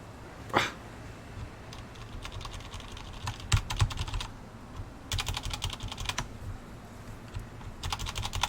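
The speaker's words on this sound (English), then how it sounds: "You hear me just pounding on the keys." Fast, hard typing on a computer keyboard in quick clattering bursts, close and fairly loud over a low steady room hum, with a brief sharp knock near the start.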